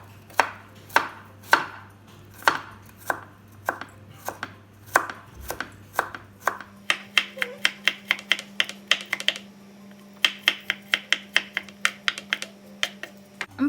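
A sharp knife slices vegetables on a board for a bean sprout dish, producing a fast, regular run of crisp knocks. The cuts are close and clear with no talking, and they speed into dense bursts near the end.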